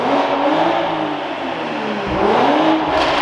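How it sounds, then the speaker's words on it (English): Modified car engine revving loud and close, a steady high-rpm drone that dips briefly and climbs again. "I gotta let it warm up though so we can rev it"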